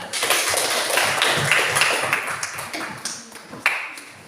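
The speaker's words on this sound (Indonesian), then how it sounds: "Beri tepuk tangan." Classroom clapping after a student group's presentation in an Indonesian school lesson, a brief scattered burst of hands from a small group with some faint background murmur, fading over a few seconds.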